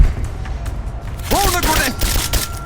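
Gunfire bursts erupt in a Rise of the Tomb Raider firefight, loud sharp cracks and booms stacking over a shouted voice and dense action noise.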